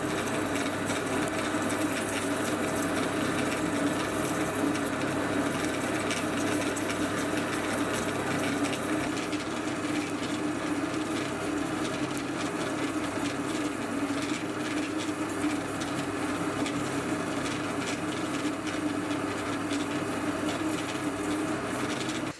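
A lathe takes 4mm-deep passes while cutting metal for a collet chuck, giving a steady, dense grinding drone that runs unbroken throughout.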